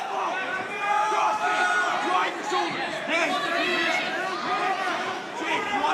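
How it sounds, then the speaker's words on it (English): Dense crowd at an FLA 21 mixed martial arts fight, a steady roar of shouting and chatter from spectators urging on their fighter, continuous and fairly loud with overlapping voices throughout. "We hear the crowd pretty intense behind us cheering their boy on."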